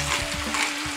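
Vegetables seasoned with rosemary, dried basil and ground pepper are stirred in a hot pan, a continuous loud crackling sizzle close up, with brief scraping of the spoon and no speech.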